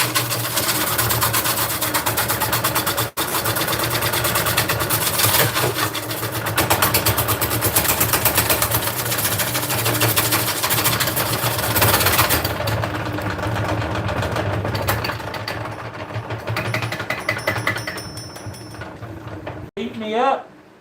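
A wood lathe spins a large mid American blank at steady speed while a bowl gouge cuts, producing a continuous loud mechanical drone with rough scraping. Near the end it winds down as the lathe stops.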